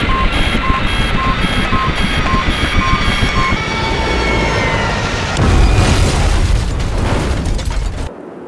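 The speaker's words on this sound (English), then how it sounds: "Command Anya, we've been hit. Mayday, mayday, going down." Aircraft taking a hit and going down in a crash with an explosion in the video game Project IGI, mission Border Crossing: a sustained loud roaring rumble with intermittent beeping tones, swelling into a heavier blast near the end before cutting off.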